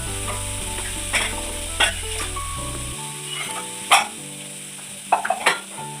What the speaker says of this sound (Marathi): थोडे आता तेलात मी परतून घेणार आहे